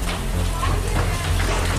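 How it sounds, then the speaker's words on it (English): A torrential rainstorm building in Montvale, Virginia pours down in a loud, steady wash of drops, with a low rumble and a faint voice briefly audible beneath the downpour. "a torrential rainstorm has been building by the minute"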